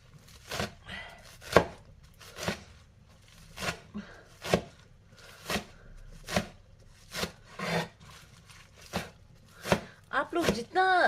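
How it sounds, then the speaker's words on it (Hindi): A knife chops green onions into small pieces on a board for a Tibetan shabhaley recipe, with distinct, close thuds coming in a loose rhythm of about one per second. A voice speaks near the end. "so let's cut the green onions"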